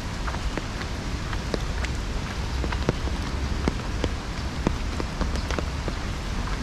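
Steady rain patters and splashes on surfaces nearby, with scattered louder drops over a constant hiss, and no voices.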